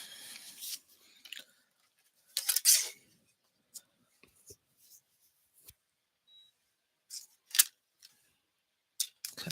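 Short bursts of scissors snipping through paper while trimming pieces for a handmade paper craft card, a few quick cuts with quiet pauses between, close and alone.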